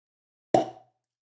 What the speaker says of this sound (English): Ooh, nice cork pop.